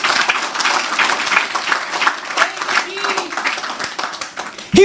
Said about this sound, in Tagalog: Isa pang malakas na palakpak sa Panginoon.